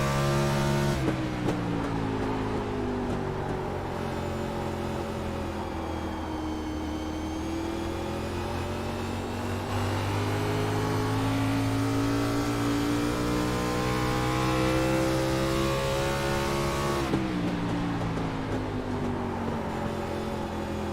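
A simulated Xfinity stock car racing at New Hampshire, its engine droning loudly and continuously, pitch sagging as the driver lifts off the throttle early into a corner, then climbing again before another lift near the end.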